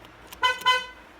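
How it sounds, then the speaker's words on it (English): A newly wired car horn tested with two short, loud toots in quick succession, close by with no other sound. "We got the horn wired up."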